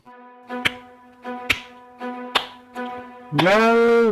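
Four sharp, evenly spaced claps ring out as sound effects in an audio story, each crack layered over a steady sustained musical tone, ending in a swelling chord.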